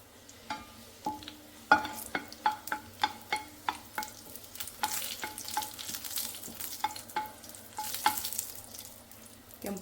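Red chilies frying in ghee in a pan for tempering, with a spoon tapping and stirring in a steady series of close clicks over a soft, low sizzle and no voices.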